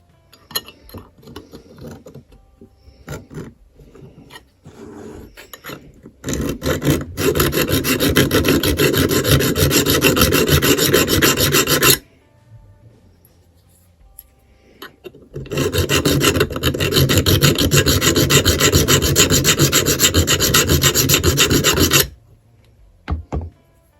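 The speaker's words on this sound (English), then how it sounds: "we're going to try to take that burr off" A hand file rasps a burr off the steel hammer of a Remington New Model Army revolver in two long, loud bursts of rapid back-and-forth strokes, separated by a short quiet pause, close up with no talking.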